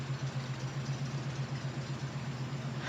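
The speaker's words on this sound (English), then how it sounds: "it's a motorcycle, by the way." A motorcycle engine runs outside at night with a steady low throb, distant and fairly faint, holding an even idle-like drone throughout.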